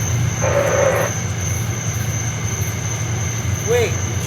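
A CSX freight train passing outdoors, a steady low rumble of rolling wagons with a brief high squeal of wheels and a whistle-like tone near the end.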